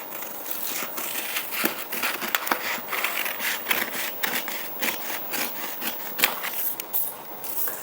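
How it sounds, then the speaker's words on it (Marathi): Scissors cut the neckline of blouse fabric in a steady series of close, crisp snips and rustling cloth scrapes, with no talking. "इथं आपल्याला गळ्याची कटिंग करून घ्यायची आहे"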